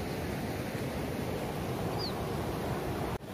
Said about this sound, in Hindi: देख सकते हैं आप किस तरह से पानी बहते हुए जा रहा है